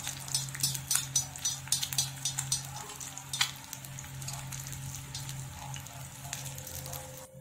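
An egg sizzles and fries in ghee in a pan, a steady crackling hiss with bursts of spattering early on, close and continuous without talk.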